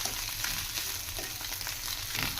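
Egg fried rice with chilli, salt, pepper and garam masala frying in a pan, a steady dense sizzle with light scraping of stirring, close and continuous without talk.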